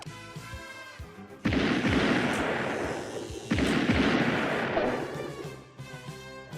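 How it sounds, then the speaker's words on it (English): A tactical ordnance grenade goes off in a cartoon scene, two loud, dense explosive bursts in succession with rumbling, crackling blasts that fill the space, each decaying slowly. "It is a tactical ordnance grenade."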